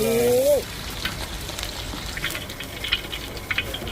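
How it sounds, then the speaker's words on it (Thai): Steady rain patters and hisses on a surface, with scattered drips tapping through; a short whistling tone sounds at the very start. "ฝนตกบรรยากาศดี"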